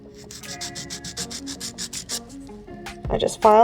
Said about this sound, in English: I'll keep filing and shaping